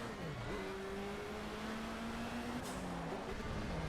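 A race car engine in Project Cars holds a high gear under a feathered throttle, a steady droning tone that slowly climbs and dips, loud and continuous, with a brief squeal near the end.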